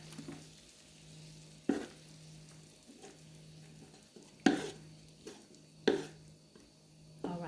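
Snow peas and shrimp stir-fry sizzling steadily in a pan with Chinese cooking wine, punctuated by several sharp clanks and scrapes of stirring at irregular intervals, no talking.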